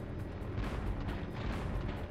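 Cannon fire in Spyro: Year of the Dragon, a steady stream of deep, rumbling booms rolling over one another without a break, loud and close throughout.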